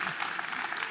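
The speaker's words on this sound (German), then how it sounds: "Und da könnt ihr ihm echt einen Applaus geben." Audience applause at a lecture on airspace rules at a paragliding event, a short burst of dense, steady clapping filling the room.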